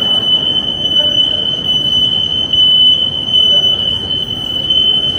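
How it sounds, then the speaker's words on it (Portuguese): A building alarm at a Leonardo da Vinci museum in Milan sounds a continuous high-pitched electronic tone, steady and unbroken over rumbling background noise and faint voices. "os alarmes estão ficando pra trás"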